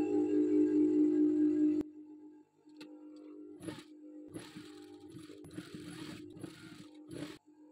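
A sewing machine stitches lace onto a boat neckline, starting with a steady motor whir, then breaking into short mechanical bursts of clattering stitching.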